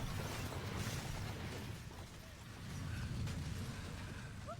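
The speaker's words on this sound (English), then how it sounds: "Look at this explosion, and it looks pretty fucking real" A large explosion in a TV show: a sustained, heavy rumbling roar that swells and fades slightly midway, then builds again, with scattered debris-like crackles over the low boom.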